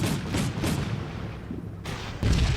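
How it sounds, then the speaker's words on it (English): An RPG blast in a Black Sea training mission game, several sharp booming impacts and gunfire bursts in quick succession, with no talking. "Oh, that was an RPG."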